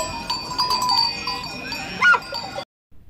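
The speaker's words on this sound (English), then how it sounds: "G for goat." A goat bleats once, a short wavering cry rising briefly over a thin steady musical backing with faint chiming tones.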